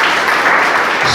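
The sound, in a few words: audience applause in church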